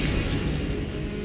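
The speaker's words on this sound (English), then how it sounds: "Confringo. Confringo." Confringo blasting spell explosion in Hogwarts Legacy, a dense, rumbling burst of noise with a heavy low boom, steady and fairly quiet throughout its short span.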